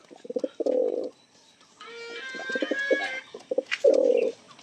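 Pigeons in a backyard loft coo in several low, throaty bursts, loud and close, with chirpy bird calls and a shrill trilling flock sound rising behind them partway through.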